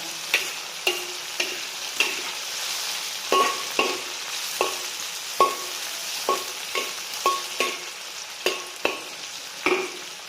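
Spices stir-fry in a wok for a Liuzhou luosifen soup base, a steady close sizzle with regular, sharp spatula scrapes and clacks against the metal every half second or so.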